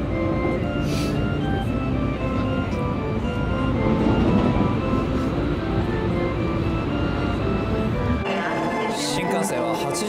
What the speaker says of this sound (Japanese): 新幹線は82分遅れで浜松駅に到着しました。